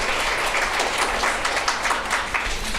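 A seminar audience at a USANA company event gives steady applause, a dense, even wash of many hands clapping for the whole short stretch.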